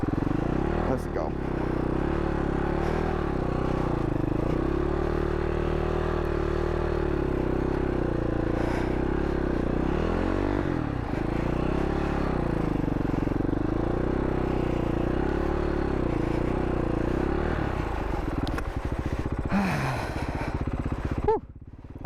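A Husaberg FS570 supermoto motorcycle ridden on a sand track, its engine droning steadily loud and close throughout with shifting pitch as the throttle rises and falls, plus wind buffeting, before cutting off briefly at the end.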